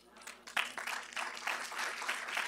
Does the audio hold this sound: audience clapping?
yes